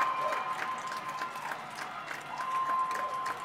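At the Wilbur Cross High School class of 2021 graduation, the audience claps and cheers as a soft, distant, continuous patter of applause.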